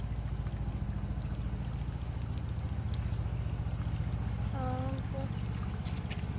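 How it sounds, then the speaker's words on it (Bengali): Groundwater runs steadily out of a pipe where a pump has been removed, a continuous close pouring and splashing rush that holds unbroken throughout. "পানিগুলো এইভাবে পড়তে আছে"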